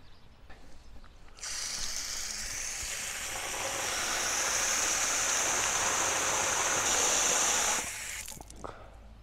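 Mountain water running from a tap into bottles at a campervan stop, a steady hissing gush that starts abruptly, grows brighter as the bottle fills, then cuts off.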